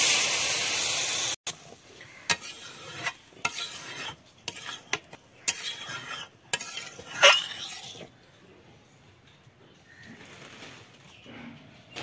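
A loud, hissing sizzle of fried spices, potatoes and tomato for a pomfret curry stops abruptly, followed by scattered clinks and scrapes of stirring in the pan, close and without talk.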